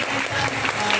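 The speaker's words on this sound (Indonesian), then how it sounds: "beri tepuk tangan dulu ya" Audience clapping at a school Easter celebration, a dense, steady burst of applause from a crowd, brief and fairly loud.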